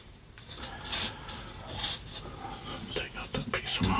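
Moss and wood being scraped back on a dwarf myrtle bonsai: close, soft rasping strokes in short irregular bursts, quiet and intimate, with faint breathing around them.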